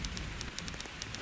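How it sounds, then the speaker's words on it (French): Steady rain falling on surfaces during a thunderstorm, a constant close hiss with scattered sharper drip ticks, heard on its own without talk. "je pense que c'était juste l'orage. Il pleut juste."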